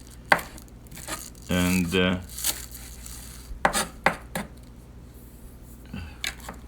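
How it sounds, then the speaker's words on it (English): A sharp knife chops fresh spring garden herbs finely on a board, giving scattered crisp knocks at an uneven rhythm, with a brief spoken word in between. "So we chop this fine,"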